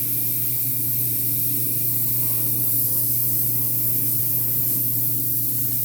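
Spray paint hisses in a steady, continuous stream, applied lightly to darken the recesses and eye sockets of a 1/4-scale custom AOA Shadow Cat sculpture; close and even throughout, with no talking.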